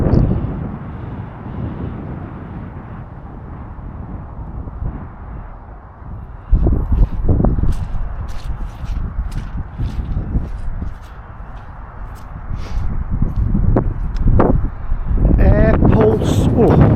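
Wind blows hard outdoors at motorway services, low rumbling gusts buffeting the microphone in surges that strengthen midway, while someone talks intermittently nearby.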